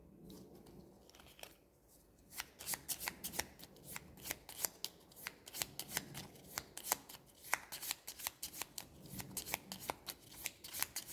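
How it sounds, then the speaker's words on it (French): Gloomhaven archer monster cards being shuffled by hand, a quiet rustle at first that builds into a steady run of crisp, close riffling snaps with no talking. "Là aussi, je dois remélanger les archers."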